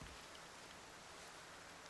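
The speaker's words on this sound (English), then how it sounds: "I think it's starting to rain, which is fantastic" Steady rain falling in the video game Cairn, a soft, even hiss of drops that stays faint and unbroken throughout.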